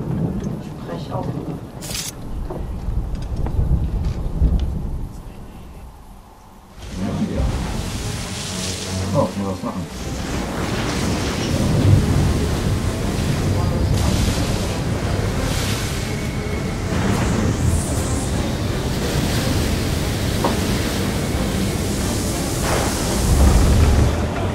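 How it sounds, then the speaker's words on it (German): Stormy ocean waves batter a boat in Assassin's Creed 3, loud continuous surf and wind roaring with crashing swells; a brief quieter dip partway through before the storm surges back. "da sind die Wellen an meinem Boot"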